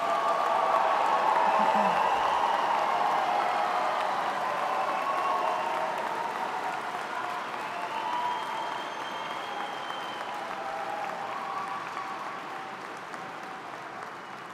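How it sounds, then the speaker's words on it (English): Sustained applause rises from a commencement crowd honouring bachelor's degree graduates at a university spring ceremony, a dense, steady roar of clapping that slowly fades over its length. "Now let's give a big round of applause to our bachelor's degree graduates."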